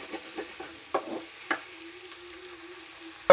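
Ginger garlic paste fries gently in a pan for a village-style country chicken curry, a low steady sizzle with a few spoon taps and stirring knocks, close and quiet, ending in a louder clatter.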